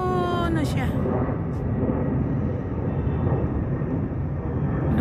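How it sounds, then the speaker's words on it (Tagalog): A helicopter passes over Kathmandu, a loud, continuous engine and rotor roar that stays steady from start to finish, with a brief whine at the opening. "Lumipad ng helicopter yan guys."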